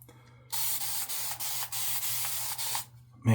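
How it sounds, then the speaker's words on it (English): A spray bottle hisses water onto shaving soap in a series of short, sharp bursts, about eight quick sprays in a row, close and fairly loud. "Let's spray some more water"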